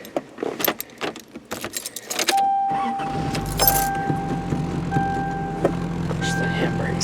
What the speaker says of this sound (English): So we're gonna start the wagon up.